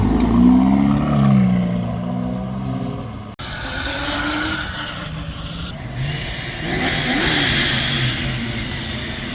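A Ferrari GTC4Lusso V12 revs at a Sarasota cars and coffee meet, its engine rising and falling in loud, close bursts, with a brief cut before the revving resumes and settles into a strong, sustained roar.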